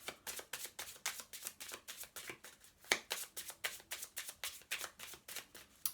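An Angel Blessings oracle deck is handled and shuffled in quick, rhythmic riffles, about three per second, close and crisp with no talk.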